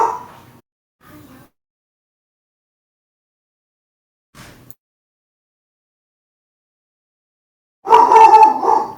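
Sparse, isolated dog barks and growly yelps, a couple faint and brief early on, then a louder, harsher burst of barking near the end, separated by silence.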